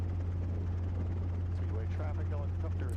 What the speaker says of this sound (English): we're in a helicopter, we're extremely maneuverable as compared to an airplane